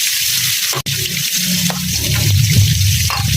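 Water simmers in a pan with pork that has rendered its own fat, part of cooking Filipino pakbet; a continuous close bubbling sizzle with a brief break partway through, no one speaking.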